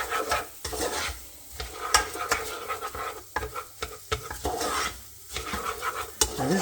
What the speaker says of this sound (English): we're going to stir that through till the butter's all melted through